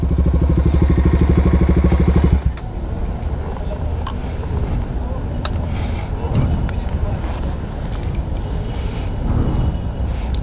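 Big motorcycles idle at an outdoor rider meetup: a close, deep engine rumble for about two seconds, then a busy wash of engine and crowd noise with people talking nearby.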